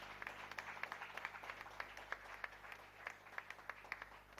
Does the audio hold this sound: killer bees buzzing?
no